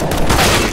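Automatic gunfire in a video game, a loud dense burst of rapid shots lasting under a second, close and without speech.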